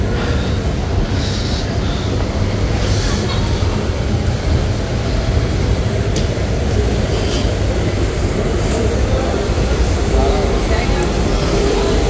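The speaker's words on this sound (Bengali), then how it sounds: "এসেও গেছে মেট্রো, ওই দেখো, দেখেছো?" A Kolkata Metro train arriving near Kalighat gives a loud, steady low rumble that fills the whole stretch, with faint voices in the background.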